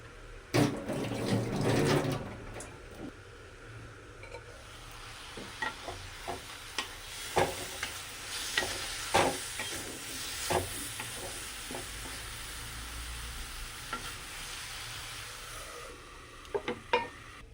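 Cabbage cooking in a covered pan, a soft continuous sizzle with intermittent stirring knocks and scrapes, quiet and close, without speech.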